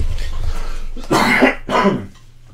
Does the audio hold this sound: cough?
yes